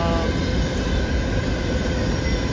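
A freight train rumbles past in London, Ontario, as a dense, steady roar of wheels and cars that fills the whole clip without a break.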